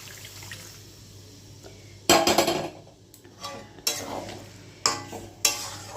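Remaining stock goes into a pan of Bengali mete chorchori, a spiced liver dish, with bursts of sizzling and splashing and a spoon stirring against the pan, close and loud in several separate surges.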